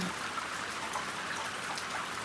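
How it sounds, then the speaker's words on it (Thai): Rain falls steadily through a cold, sunless day, a continuous even hiss with scattered drops and no voices. "แถมยังฝนตกอีก"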